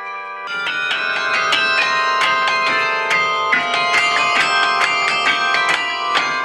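Carillon bells ring out a bright melodic sequence of struck tones, each strike blooming into long overlapping resonances, loud and close with no voices.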